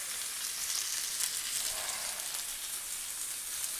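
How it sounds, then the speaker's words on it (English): A chuck roast sears in a hot pan, giving a steady, fairly quiet hiss of sizzling fat that holds even throughout, with no voices. "you want to hear that sizzle"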